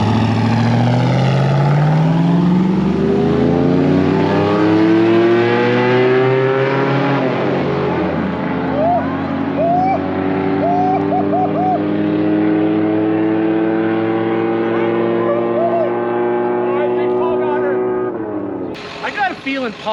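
Engines roaring at Tucson Dragway during a drag race between off-road build vehicles, loud sustained revving with rising and falling pitch for most of the run, cutting off sharply near the end.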